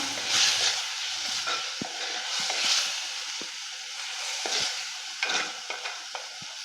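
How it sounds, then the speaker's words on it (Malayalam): Pineapple cooks with salt in a pan for a Kerala-style pachadi. A soft hiss of frying sits under intermittent stirring scrapes and a few sharper taps, close and fairly quiet. "നമുക്ക് ഇതിനകത്തേക്ക് ഇനി ഉപ്പിട്ട് കൊടുക്കാം. ഇളക്കി കൊടുക്കാം."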